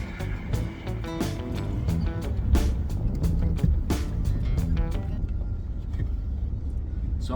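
Rust-free Chevrolet Silverado pickup driving on the road, its engine droning steadily with rising and falling revs, rattles and clunks from the cab, and a few faint voices mixed in.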